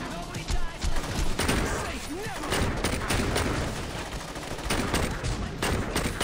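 Rapid gunfire from a heavy gun in the video game Saints Row 2, bursts of shots rattling steadily and loudly through the whole stretch amid crashing game action, with a voice exclaiming over it at times.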